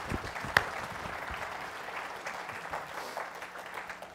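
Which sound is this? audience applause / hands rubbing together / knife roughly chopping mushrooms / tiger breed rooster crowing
audience applause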